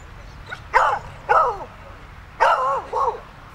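A dog lets out a few short, sharp barks and yips at another dog, in quick separate bursts with brief gaps, fairly close and clear.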